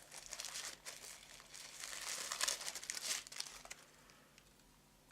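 Wrapped packages in a candy box are opened by hand, with close, irregular bursts of crinkling and rustling plastic wrap that rise and fall before fading near the end.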